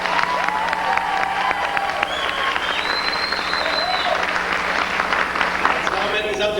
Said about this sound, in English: Let's hear the balcony clap up there.